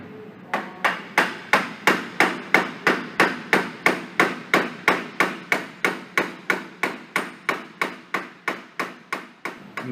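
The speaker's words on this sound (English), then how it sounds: "we're going to use a blunt object here, and we're going to hit the bearing in by hand" A blunt object hammers a front wheel bearing into a Polaris Ranger by hand: about two dozen sharp, evenly spaced metallic taps, close and steady for the whole stretch, with no talk.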